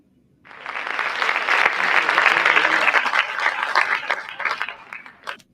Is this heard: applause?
yes